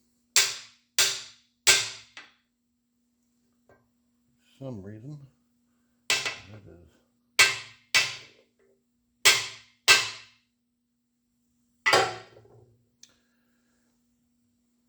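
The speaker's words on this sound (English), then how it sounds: "you smack the end of it with a hammer." Sharp metallic hammer blows strike an alignment tool driving a cam bearing into place, landing in spaced pairs and singles with clear gaps between them, close and loud, with a brief bit of speech in the middle.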